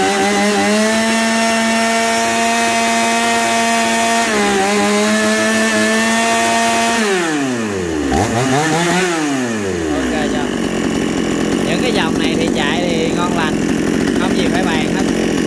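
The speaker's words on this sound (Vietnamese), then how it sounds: "cho cả nhà mình nghe tiếng máy nổ nha" A Komatsu G451 chainsaw engine starts and runs loud and close, its steady two-stroke whine dipping and swooping in pitch as the throttle drops and rises, then settling into a rougher, rattling idle.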